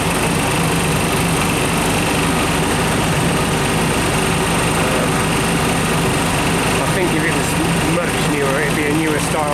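An old compressor, around 30 to 35 years old, runs steadily and loudly up close, a continuous mechanical drone with a buzzing high whine that holds without a break.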